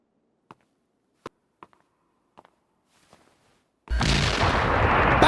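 An anime magic spell shot, Fern firing at Frieren, bursts in as a sudden loud blast that holds as a dense roar after several faint, sparse taps and clicks.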